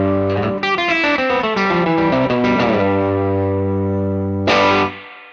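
Electric guitar with effects playing a cascading open-string lick in G, a rapid run of ringing overlapping notes with distortion and chorus, then a final strummed chord that sustains and fades.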